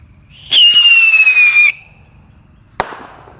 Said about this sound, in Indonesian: kalau ini roket pirotor yang warna biru guys. Kita nyalakan.